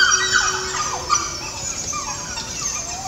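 Wolf pups of the White River Pack squeal and howl in excitement, a chorus of thin, high yelping whines rising and falling continuously at moderate distance over steady outdoor background noise.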